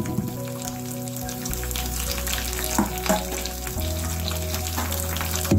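Ginger pieces and cashews fry in oil with curry leaves, a steady close sizzle with light crackles and pops under a low, constant stove hum.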